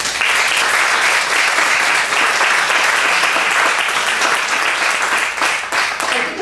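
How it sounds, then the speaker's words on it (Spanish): Steady, loud applause from a lecture audience, welcoming a speaker to a talk on Stonehenge, with dense clapping sustained throughout and no voices over it. "Así que pido para él un fuerte aplauso."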